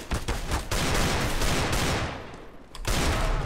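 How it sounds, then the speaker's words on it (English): Desert Eagle pistol fire in a CS:GO ranked match: loud, dense, close gunfire filling most of the moment, dipping briefly before another sharp shot. "I'm finishing this game off with the deagle"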